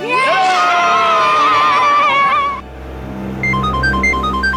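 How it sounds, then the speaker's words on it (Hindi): Loud, excited voices shout and whoop, then a phone's electronic ringtone starts, repeating short beeping tones. "अरे वो सीआईडी वालों को फोन आ रहा है।"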